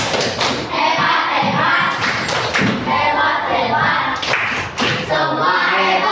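A classroom of pupils performs a rhythmic group clapping chant, loud and close, with repeated hand claps and thumps mixed with voices across the whole stretch.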